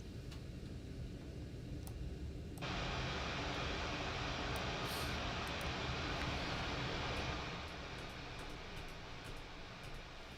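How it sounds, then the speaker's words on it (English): A plugin puts out a loud burst of broadband white noise. It cuts in sharply after a quieter hiss, holds steady for several seconds and then eases back down, with faint ticks scattered on top. "There's our blast of white noise"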